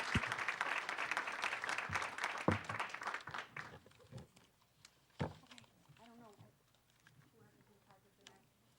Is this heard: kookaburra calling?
no